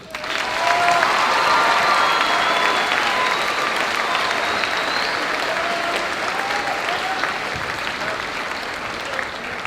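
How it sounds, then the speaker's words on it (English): Sustained audience applause for graduates at a high school moving up ceremony, a broad steady roar of many hands clapping with some cheering, building quickly and holding for nearly ten seconds. "let us give these graduates one more round of applause."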